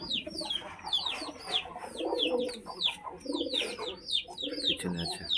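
Pigeons cooing with soft low coos, mixed with repeated bright chirps from other birds, a busy, moderately close chorus that goes on throughout.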